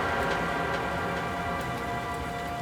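Heavy rain pours steadily at a roadside motel at night, a dense, constant hiss with faint drop patter throughout and no voices.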